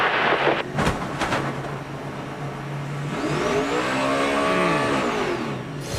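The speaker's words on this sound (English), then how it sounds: "And Harvick tries to get that car back going, but too much damage to the right front" A 2005 NASCAR stock car with heavy right-front crash damage strains to pull away, its engine rising in a long revving sweep after a short, steady low drone, fairly close and loud.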